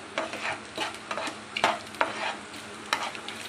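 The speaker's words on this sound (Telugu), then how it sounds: "ఇలా ఉల్లిపాయ ఫ్రై చేసుకోవాలండి" Chopped onion with green chilli and curry leaves sizzles in hot oil while being stirred, scraping sounds coming in short bursts over a steady frying hiss.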